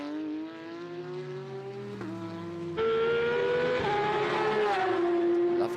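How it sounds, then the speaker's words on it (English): A Porsche flat-six race car engine screams close by on the Estoril circuit, its pitch climbing through rapid gear changes, loud and continuous. "Lovely sound there of the flat 6 of the Porsche there."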